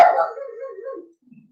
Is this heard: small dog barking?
yes